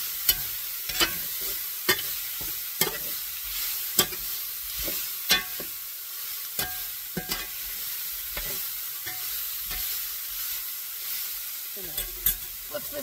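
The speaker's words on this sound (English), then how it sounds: "I do not want to overcook this meat. I am going to one more mix it around." Elk steak sizzles steadily in a hot pan while a utensil stirs it, knocking and scraping the pan in repeated sharp strokes over a continuous frying hiss, close and fairly loud.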